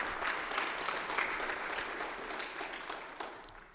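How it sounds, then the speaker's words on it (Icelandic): An audience at a Christmas show applauds, a dense, close wash of clapping that holds steady for a few seconds before slowly thinning out. "Það má gefa þeim klapp þegar þau eru búin."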